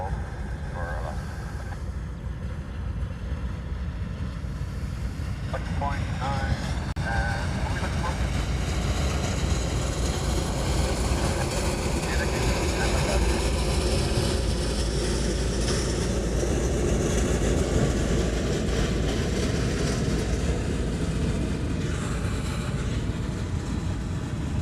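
A jet airliner taxiing at Honolulu airport gives off a continuous low engine rumble and whine, steady and moderately distant over a long stretch, with people talking now and then over it.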